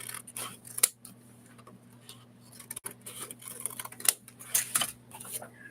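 Scissors trim paper for a junk journal in a series of crisp, close snips and rustles, irregular in rhythm, against a low steady hum.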